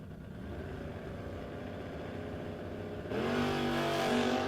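An 85 Kawasaki drag racing motorcycle idles with a low, steady engine drone at a drag strip, then revs sharply higher near the end, the pitch climbing as the throttle opens.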